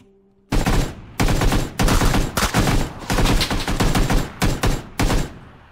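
Loud, close gunshots in PlayerUnknown's Battlegrounds come in rapid repeated bursts of automatic fire with brief gaps between volleys.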